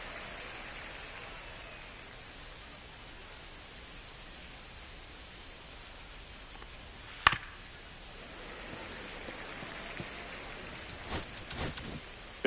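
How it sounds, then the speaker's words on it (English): Steady rain falls across a baseball field in MLB The Show 25 during a Yankees at Guardians game, a continuous even hiss with a sharp crack around the middle and a few brief clicks near the end. "the field's not going to be able to hold up if the rain gets any worse than this"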